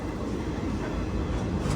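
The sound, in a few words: Mussoorie Express train moving on railway track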